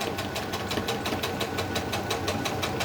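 Sewing machine stitching a crazy crumb quilt block, a fast, even mechanical whirring with rapid rhythmic pulses, steady and close for a few seconds with no talking.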